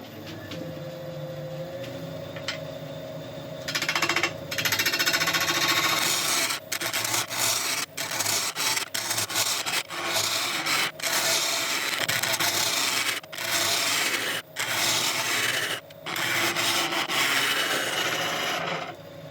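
A woodturning lathe cuts the sides of a spinning wood burl with a turning tool, a loud continuous rasping scrape broken by short pauses as the tool lifts off and bites again.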